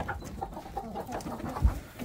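Chickens cluck softly at a distance in a farmyard, a low scattered murmur of short calls over faint background noise.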